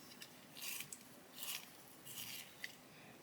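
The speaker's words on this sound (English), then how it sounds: "I'm just going to sharpen." A coloured pencil being turned in a sharpener, the chrome green lead shaved in three short grinding bursts with a faint click between, close and quiet with no talk.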